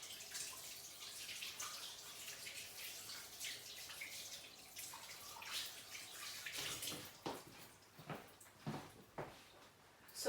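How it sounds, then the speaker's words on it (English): Sticky bread dough gets washed off hands under a running tap, with a steady hiss of flowing water joined later by irregular splashes and rubbing bursts as the hands move through the stream. "I'm just going to wash my hands because I've now got sticky dough"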